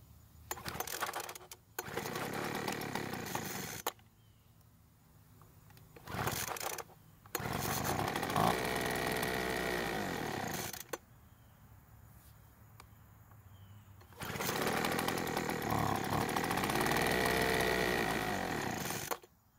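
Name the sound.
Poulan Pro leaf blower engine starting and stalling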